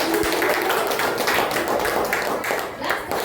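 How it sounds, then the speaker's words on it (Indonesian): Applause for a school group, a dense, loud burst of many hands clapping together, continuous and close, filling the room for a few seconds. "Tepuk tangan dulu dong untuk kelompok ular semuanya."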